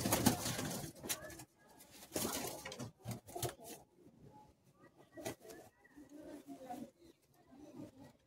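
Madrasi high flying pigeons in Kolkata cooing in low, throaty bursts close by, while someone talks over them in an irregular stop-start rhythm.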